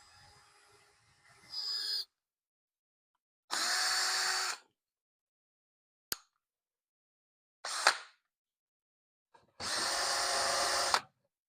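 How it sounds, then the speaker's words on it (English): A cordless drill with a dying battery whirs in short, separate bursts, a few seconds on and then off with brief clicks between, close by in an otherwise quiet room. "I might need to switch drill. I think this battery going dead."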